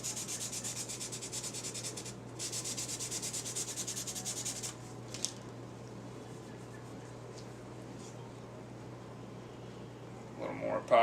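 A ferro rod is rubbed against sandpaper in steady rhythmic strokes, a close scratchy rasp that runs for several seconds before dropping away to quiet background hum.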